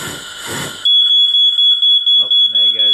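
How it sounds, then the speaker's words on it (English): A smoke alarm sounds a loud, piercing high beep in rapid repeated pulses right after a burst of noise from a wood gas burner, with a voice starting near the end. "there goes the smoke alarm"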